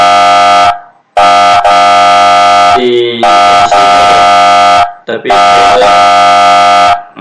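An alarm in a bottle filling plant simulation sounds as a loud sustained harsh horn-like tone in long blasts with brief gaps, while someone talks over it in places.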